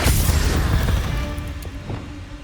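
A Confringo blasting spell from Hogwarts Legacy sets off a deep booming explosion that bursts loud at the start and rumbles away over a couple of seconds.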